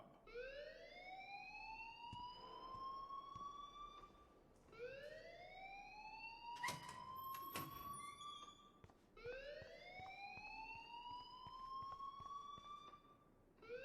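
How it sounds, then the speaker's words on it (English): A wailing alarm blares in the video game Life Is Strange. Three long rising sweeps repeat roughly every four seconds, loud and sustained, with a few sharp clicks and knocks between them. "please turn off that alarm since that's your job"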